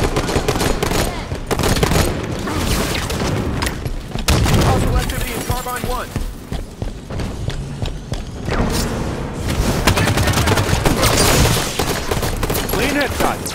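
Rapid gunfire bursts and booms in the Halo video game, loud and dense throughout, with short pauses between volleys and a voice talking over the action at moments.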